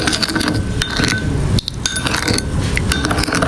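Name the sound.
mixing spicy Korean ramen noodles with sauce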